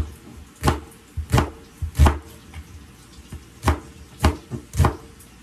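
A knife chops through a whole onion on a cutting board while collard greens are prepared, about eight sharp, separate knocks landing in an uneven rhythm, close and crisp, with quiet pauses between strokes.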